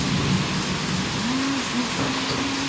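Heavy rain pours steadily in a village in a continuous close wash of noise, with a faint rising and falling hum running underneath.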